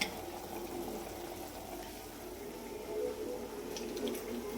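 Water runs from a tap in a home kitchen, a soft, continuous trickle heard at low volume with a few brief splashes near the end.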